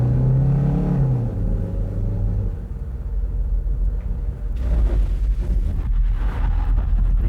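A car brakes hard and skids at a skid-control driving school, heard as a loud, continuous low rumble of tyres and engine with wind buffeting throughout and no clear voices.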